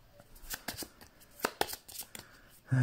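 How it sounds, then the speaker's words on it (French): Cards from a deck shuffled by hand during a tabletop game of Familiar Tales, a run of quick riffling bursts close by, then a louder rustle at the end; faint speech in the background. "Je vais mélanger son deck."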